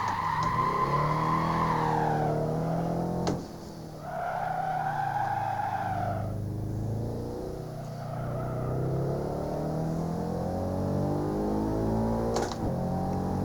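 A Subaru Impreza 22B STi in the Assetto Corsa racing game on a mountain touge run revs hard through the gears, its engine note climbing and dropping with shifts, tires squealing and skidding through corners, loud and continuous.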